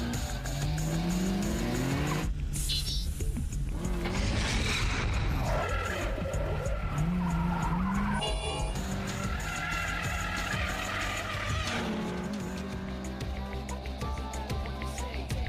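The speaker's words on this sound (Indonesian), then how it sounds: "Dengan kepiawaian Takumi dalam hal ngepot-pengepot, ia pun memanfaatkan sisi dalam tikungan atau mapai gawir untuk menyalip Nakazato pada tikungan terakhir" An anime street-racing car drifts through a mountain pass corner while overtaking, tires squealing loudly over steady engine roar and dense backing, with sweeping pitch shifts and no talk.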